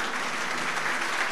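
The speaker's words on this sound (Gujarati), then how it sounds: "તહે દિલથી આ તાળીઓનો નાદ તારા કાન સુધી જે પહોંચી રહ્યો છે" Audience applause fills the hall at an Indian devotional gathering, a dense, steady wash of clapping throughout with no voices over it.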